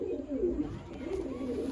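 Pigeons offered at a pigeon sale give low, wavering coos that run almost continuously through a short stretch, fairly close and moderately loud against a dull background hum.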